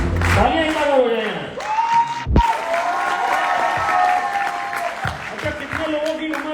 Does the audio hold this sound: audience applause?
yes